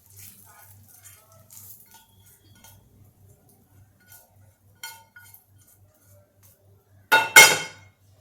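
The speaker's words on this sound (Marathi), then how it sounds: "आणि आता हा स्वीटकॉर्न मी एका प्लेटमध्ये काढून घेते." Cooked sweet corn is spooned from a pan onto a plate. Faint, sparse taps lead into a loud cluster of metallic clinks and scrapes near the end.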